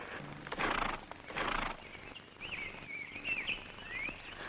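Horses in a 1957 western film give faint hoof thuds and restless movement, with two short louder bursts early on and a high whinny-like call drifting over quiet outdoor ambience.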